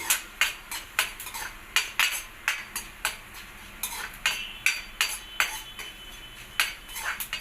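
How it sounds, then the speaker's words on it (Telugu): Coriander seeds, cumin and red chillies dry-roasting in a pan, stirred with a metal spoon: regular, fairly close clinks and scrapes of metal on metal, about two per second, over a faint background. "ధనియాలు, జీలకర్ర, మిర్చులు ఇది కూడా దోరగా వేయించుకోవాలండి"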